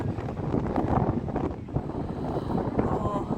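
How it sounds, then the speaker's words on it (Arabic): Wind on a beach at Marsa Matruh buffets the microphone in a steady, rough roar, gusting slightly as it blows past. "انتوا اكيد سامعين صوت الهوا"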